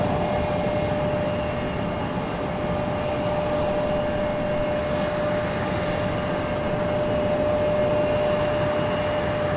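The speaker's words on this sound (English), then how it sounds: "There goes our C-17." A C-17 military transport aircraft takes off at Raleigh-Durham International, giving a steady, loud engine roar with a sustained whining tone throughout and no talking.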